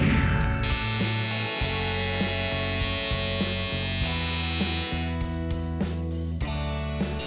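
Electric tattoo machine fitted with a 3RL needle and tip buzzing steadily while outlining a key tattoo, a continuous close mechanical drone with slight shifts in pitch, and no talking over it.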